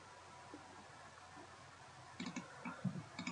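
A few soft computer mouse clicks, close and faint, scattered over the last second and a half above a quiet steady room hiss.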